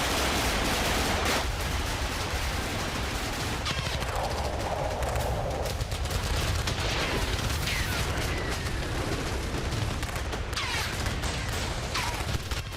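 Gunfire and explosions in a guerrilla attack on Israeli soldiers near Kiryat Shmona by the Lebanon border, dense bursts of rapid shots and cracking blasts over heavy rumbling noise, sustained and chaotic throughout.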